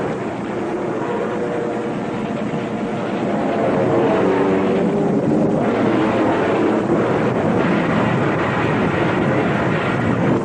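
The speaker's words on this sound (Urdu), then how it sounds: "پرندوں کی طرح اڑنے کا خواب دیکھنے والے انسان نے ہوائی جہاز بنایا تو اسے بھی فوراً ہی ایک جنگی مشین میں بدل دیا" A propeller-driven war airplane in flight as a sound effect, a loud continuous droning engine roar that swells slightly and holds steady throughout, alone with no voices.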